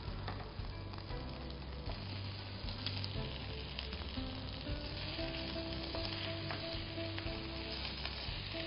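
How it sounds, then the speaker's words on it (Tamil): Boiled mutton sizzles and fries in hot oil with ginger garlic paste for a palak mutton gravy, a steady crackling hiss with occasional stirring, fairly quiet. "ஸோ பாயில் பண்ண மட்டனை அப்படியே ஆட் பண்ணி நம்ம அந்த ஆயிலே நம்ம வந்து கொஞ்சம் சாத்தே பண்ணுறோம்"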